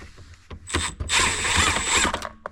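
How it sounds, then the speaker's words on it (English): Ratchet clicks in quick bursts while backing a screw out of a 1967 Pontiac Bonneville during heater core work, close up, rising into a busy stretch of rapid ratcheting before trailing off. "Alright, pull that screw out."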